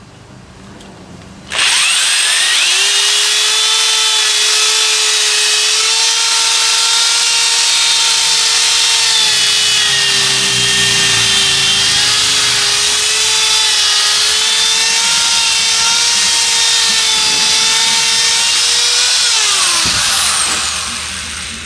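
A power drill whines loudly and steadily for about twenty seconds close by, boring and widening holes in wood for dowel rods, with its pitch shifting slightly as the bit is wiggled, then winding down.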